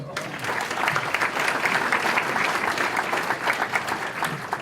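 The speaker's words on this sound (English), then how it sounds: "Let's give him a good round of applause." Sustained applause from a hall of fame induction audience in Albert Lea, a dense, steady clatter of many hands filling the room from start to finish.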